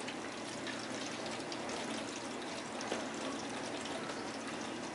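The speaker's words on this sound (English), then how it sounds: "Oh, Oliver, you're splashing everybody." A dog splashes in a water fountain, producing a continuous, fairly faint rush and trickle of running water with no voices.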